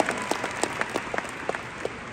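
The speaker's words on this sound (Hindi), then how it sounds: "एक बार कृष्णा के लिए दोबारा ताली मार दो।" An audience at an FLP success day event applauds in a short burst of scattered, fairly close hand claps, with individual sharp claps standing out over the steady patter of the crowd.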